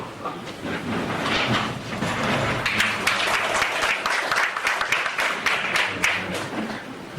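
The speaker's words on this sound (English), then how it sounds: "I urge all of you to welcome him with a warm applause, loud applause" An indoor audience at a study circle meeting applauds to welcome a speaker, a dense, sustained burst of many hands clapping at close range that fills the whole stretch without pause.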